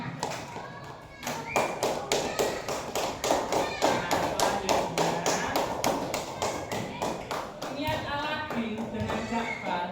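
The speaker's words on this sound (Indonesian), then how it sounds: "Tepuk tangan untuk Mas Afan." A classroom of pupils claps in unison for Mas Afan, a fast, even run of sharp hand claps lasting several seconds, with children's voices rising near the end.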